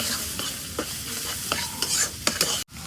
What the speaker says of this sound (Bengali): মশলাটা তেলের মধ্যে ভাজা নিই।